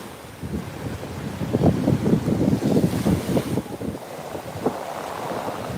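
Wind and ocean surf at a beach, a steady rush of breaking waves with gusty wind buffeting the microphone, swelling and easing over several seconds with no voices.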